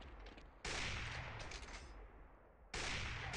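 A headshot in the Android shooter Gun War, heard as loud sustained gunfire bursts that cut in sharply twice, with no talking over them.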